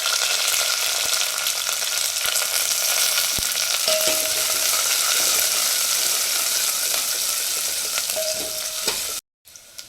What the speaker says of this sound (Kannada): ಸಾರಿಗೆ ಒಗ್ಗರಣೆ ಹಾಕ್ತಾಯಿದ್ದೀನಿ. ಸಾಸಿವೆ, ಕರಿಬೇವು ಸೊಪ್ಪು, ಈರುಳ್ಳಿ ದಪ್ಪ ದಪ್ಪವಾಗಿರು ಸ್ವಲ್ಪ.